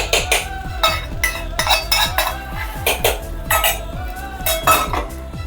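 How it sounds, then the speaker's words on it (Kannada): A metal spoon clinks and scrapes against a steel pot as a hot spice tempering is stirred into sambar, a brisk run of repeated close metallic taps and rattles with no talking. "ನಾನು ಈ ಒಗ್ಗರಣೆನ ಸಾಂಬಾರಲ್ಲಿ ಸೇರಿಸ್ತಾ ಇದ್ದೀನಿ."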